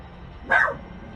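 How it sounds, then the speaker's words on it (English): A dog barks once nearby, a single short, sharp bark rising out of quiet room background and fading within a fraction of a second. "Whoop, that's my dog."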